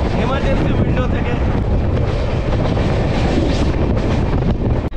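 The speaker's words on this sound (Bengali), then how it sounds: "তাও একবার দেখিয়ে দিচ্ছি কেমন লাগে এই অমৃত ভারত এক্সপ্রেসের এক্সপিরিয়েন্সটা এমার্জেন্সি উইন্ডো থেকে।" Amrit Bharat Express train running at speed, captured from an open emergency window: a steady, loud roar of wind and rushing track noise fills the whole stretch without a break.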